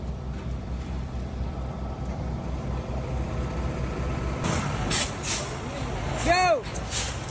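A concrete truck's diesel engine rumbles steadily at a paving job, with a louder whooshing burst of air brakes and a whistling tone near the end.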